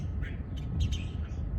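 Birds nesting in an outdoor fuse box on a utility wire give scattered short chirps and squawks over a steady low rumble of outdoor background noise.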